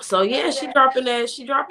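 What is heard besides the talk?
None of the usual background noises is heard.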